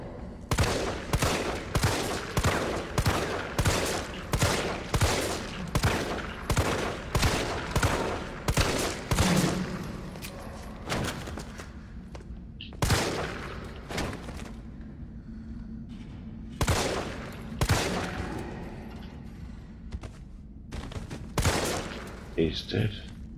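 Rapid gunshots fired at zombies in the video game Resident Evil 3 Remake, a loud rhythmic volley of shots at first, then scattered single bangs with short pauses between them and a voice speaking partway through.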